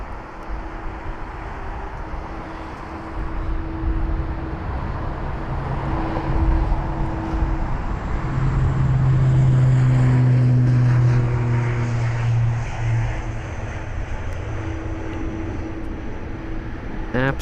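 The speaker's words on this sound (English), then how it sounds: "And the Logan Air ATR 72 on the move now." A Loganair ATR 72 turboprop taxis at London Heathrow, a steady propeller and engine drone rising and swelling over broad airport rumble, heard at moderate distance with a commentator talking throughout.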